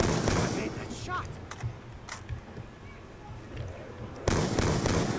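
Gunfire in Call of Duty Zombies on the Buried map, sharp loud shots bursting at the start and again near the end, with scattered clicks and quieter game noise between them.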